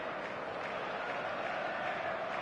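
Stadium crowd noise from the eFootball video game fills the scene as a steady, dense roar of cheering and applause, distant and fairly quiet throughout.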